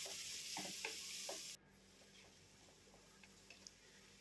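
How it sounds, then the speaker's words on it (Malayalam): Chopped onion and green chilies in hot oil, a bright loud sizzle with a few stirring scrapes that drops abruptly to a quieter, softer frying hiss, close with no voice. "ഇനി അതിലോട്ട് നമ്മൾ അരിഞ്ഞിച്ചിട്ടുള്ള ഉള്ളി ചേർത്തു, 4 പച്ചമുളകും ചേർത്തു."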